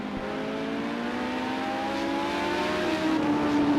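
Race car engines from Project Cars 2 at Fuji drone steadily at high revs, a Porsche among them, with a continuous loud whine that climbs slightly in pitch toward the end, no voices.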